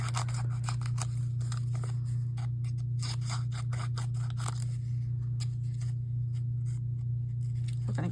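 Scissors snip through paper while cutting shapes for a collage, a quick run of crisp little cuts over a constant low electrical hum, close and fairly quiet, with no one talking.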